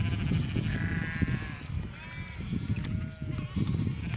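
Sheep bleating in the distance on common grazing in Kintyre, Argyll, Scotland, over steady rumbling wind noise, the calls wavering and partly masked by the outdoor background.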